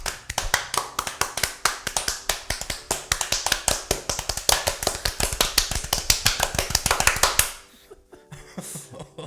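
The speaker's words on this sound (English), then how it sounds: "I'm clapping for you." Rapid, steady hand clapping, loud and close, runs for about seven seconds before stopping abruptly and leaving a quiet tail.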